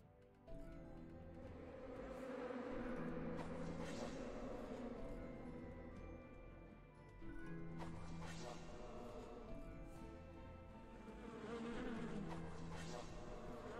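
Buzzing of a bee mage enemy in a video game, a steady insect-like drone that swells and fades in pulses over game music and effects.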